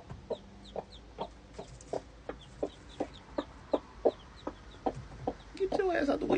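Chickens cluck in a steady, evenly spaced series of short calls, close by, with a busier burst of clucking at the end.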